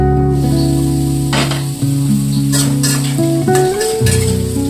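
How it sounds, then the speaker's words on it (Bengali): Potatoes frying in oil under a lid, a loud steady sizzle and hiss close by, with stirring scrapes breaking through in short bursts and a low background hum, no talking. "ঢাকা দিয়ে আলুগুলো ভাজবো কিছুক্ষণ"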